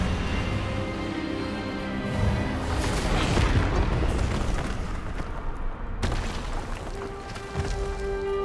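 A disarming spell in the Hogwarts Legacy video game goes off as a heavy, booming magical burst, with a sustained rumbling blast that fades and then cuts into a lighter tail.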